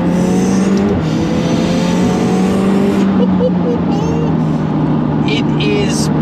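A McLaren 720S accelerates hard in a straight line on a driving road, its engine a loud, continuous drone that climbs and settles in pitch, heard from inside the car while someone talks over it.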